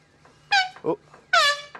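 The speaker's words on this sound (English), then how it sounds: "foghorn there, which, don't know why they've got it, but it's good" A foghorn on a set blasts twice, loud and close, each note a short harmonic honk, separated by a gap with a brief squeaky sound between them.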